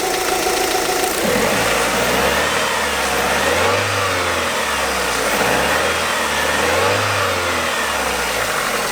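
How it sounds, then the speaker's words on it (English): A Rover 75's engine, started stone cold, runs close and steady at idle while the revs rise and fall in two smooth swells across the stretch. "So it is a very nice engine. That little rev."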